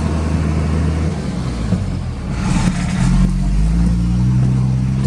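A big standard motorcycle ridden along an old gravel-road route hums with a continuous engine drone mixed with wind rush; the revs climb noticeably partway through and stay up to the end.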